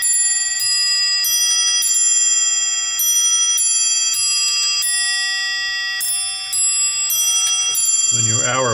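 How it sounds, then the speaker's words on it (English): English bracket clock striking the Westminster chime, clear ringing bell tones in a repeating melodic sequence, close and loud, ending with a short mechanical clatter. "And you get your Westminster chime."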